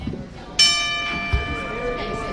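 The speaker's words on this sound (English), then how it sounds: "And there's the bell, folks." A wrestling match bell at a live independent pro wrestling event rings once sharply and loud, its bright metallic tone ringing out and slowly decaying over low crowd murmur and background noise.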